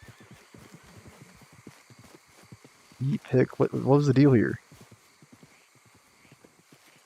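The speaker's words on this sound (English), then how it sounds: "It's a dang horse, man." A horse in Red Dead Redemption 2 clops and moves about, its hooves tapping faintly throughout while someone talks loudly over it in the middle.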